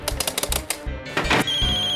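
A telephone rings with a rhythmic, repeating electronic tone during a tense domestic scene in a Hindi TV drama, loud and close over a dense background score.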